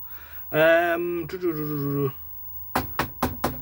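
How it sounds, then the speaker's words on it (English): Four sharp knocks in quick succession on the circuit board of a Nordmende F11 television, loud and close, coming after a short sustained voiced tone. "No amount of knocking or mechanical shock to the board is bringing our grayscale fault."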